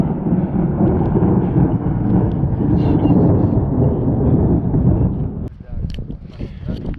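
Thunder rolls through a mountain thunderstorm while crossing a mountain, a loud deep rumble sustained for several seconds with wind buffeting, then fading into scattered crackles near the end.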